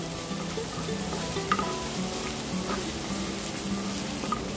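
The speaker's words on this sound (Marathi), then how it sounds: "लसणाचा कलर बदलला की आपण कांदा टाकायचा। कांदा पण मी आता खूप बारीक करून घेतलेला आहे।" Finely chopped onion and garlic sizzle in oil in a pan as street-food frankie filling is made, with a dense, even crackle, occasional louder pops and a faint low hum underneath.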